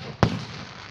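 A single sharp firework bang, close and loud, standing out over a steady background hiss.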